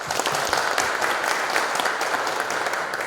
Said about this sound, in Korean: 다시 한번 큰 감사의 박수를